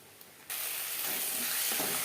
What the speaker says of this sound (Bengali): লো ফ্লেমে ভাজবো যতক্ষণ না পর্যন্ত মশলা থেকে স্মেল বেরোতে শুরু করে দেয়